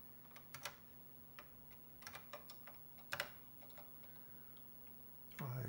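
Keys on an Apple III computer keyboard clack in scattered short bursts of a few strokes each, fairly faint against a quiet room hum, with a louder thump near the end.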